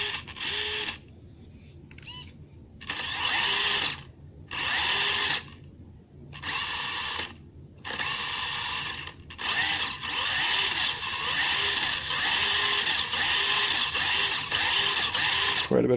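A UDIRC UCX2405 Snow Leopard RC car's electric motor whines in repeated bursts, starting and stopping several times before running steadily near the microphone, with no talking.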